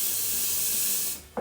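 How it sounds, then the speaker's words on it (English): Electric kettle heating a pint of water for soaking raisins, a steady loud broadband hiss of steam and rolling boil that cuts off near the end, followed by a brief clunk. "we put the kettle on for a pint of boiling water"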